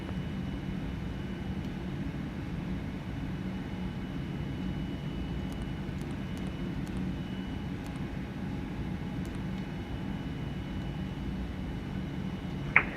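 A steady, muffled jet engine rumble from a Boeing 787-8 in a flight simulator holds an even level during the takeoff roll, with a few faint ticks and a brief sharp click near the end.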